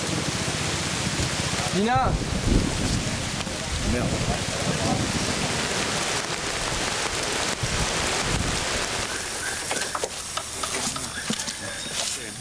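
Steady rain pours down in a dense, continuous hiss, with a voice briefly calling out and muttering over it.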